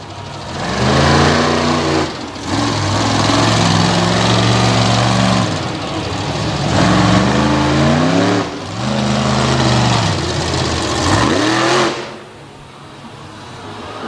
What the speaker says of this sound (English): very expensive flash fire as he just popped that Steve Schmidt motor